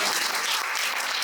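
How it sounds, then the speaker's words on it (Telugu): Congregation at a church service clapping together, dense continuous applause throughout, loud and close, no speech over it. "Invite him with big claps."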